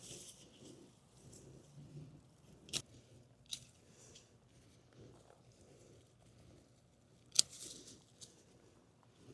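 Garden shears cutting back salvia stems in a summer flower bed: a few sharp, isolated snips spaced several seconds apart over faint outdoor background noise.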